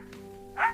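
A single short dog bark, fairly close, over a steady low electrical hum in a quiet home.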